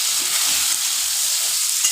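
Potato pieces frying in oil with turmeric, a dense, steady hiss of sizzling close up, with faint low scrapes as they are stirred and no voices.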